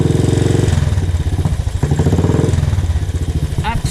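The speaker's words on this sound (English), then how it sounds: "we'll fire it up and let the engine warm up" A Royal Enfield Classic 500 single-cylinder motorcycle engine fires up and runs, a steady thumping idle loud and close, with a mechanical clatter and a brief higher whine near the end.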